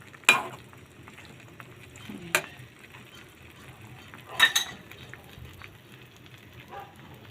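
Pork adobo is stirred in a pan, with a few sharp scrapes and clinks of a spoon against the metal over a faint, quiet sizzle. The scrapes come in short bursts with gaps between them.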